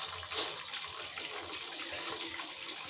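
Mutton pieces dropped into hot ghee in a pot for a karahi, giving a steady, loud, broadband sizzling hiss that continues without pause and with no talk over it.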